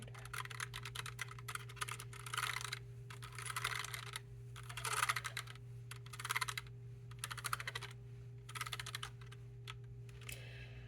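Typing on a Logitech Pop Keys mechanical keyboard with round keys, bursts of crisp, close clicking keystrokes separated by short pauses, over a quiet steady hum, with no talking.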